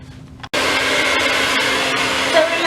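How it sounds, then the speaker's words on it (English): A hair dryer blow-drying hair, used with a Denman brush, switches on after a brief pause and then roars steadily at close range, loud and continuous with no talking. "I'm going to begin blow drying."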